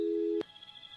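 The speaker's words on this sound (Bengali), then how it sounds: "কেয়ারটেকার ফোনটা কেটে দিল।" A phone line goes dead after a caretaker hangs up on a caller stranded at the wrong railway station: one steady, loud busy tone lasts under half a second and ends with a click, leaving faint hiss.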